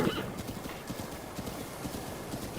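A horse gallops with rapid, rhythmic hoofbeats in the video game Breath of the Wild, with a whinny near the start and the clip-clop continuing at a moderate, fairly quiet level.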